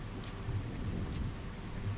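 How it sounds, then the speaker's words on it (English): Rain pours steadily outdoors as a broad continuous hiss with a low rumble underneath, and two faint brief crackles rise above it. "We need to wait for the rain to stop anyway before we can do anything"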